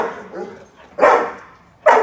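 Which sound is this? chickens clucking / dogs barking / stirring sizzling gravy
dogs barking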